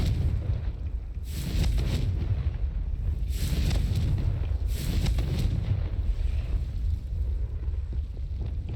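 Confringo blasting spell from Hogwarts Legacy, a deep rumbling blast with a few sharp explosive bursts over a continuous roaring low wash, loud and sustained with no voices.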